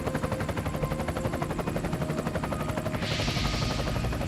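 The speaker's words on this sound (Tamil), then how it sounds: "அந்த ஹெலிகாப்டர் நம்ம சிட்டி பக்கமா தான் போயிட்டு இருக்கு" A cartoon helicopter from an animated Tamil children's series flies past with a steady, rapid rotor chop over a dense engine drone, loud and constant, with a brighter whooshing swell near the end and no speech.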